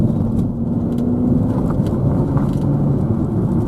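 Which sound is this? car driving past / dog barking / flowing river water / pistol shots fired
car driving past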